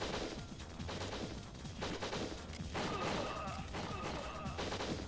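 Rapid bursts of gunfire from a covert-operations shooter video game crackle in dense, overlapping volleys with short gaps, moderately loud and continuous over about five seconds.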